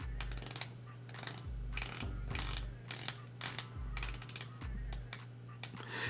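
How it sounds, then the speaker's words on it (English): The rotating bezel of a Sinn U1 S automatic dive watch in submarine steel turns in a series of quiet, muted clicks, closely spaced and repeated in short runs. "Let's listen to the bezel action."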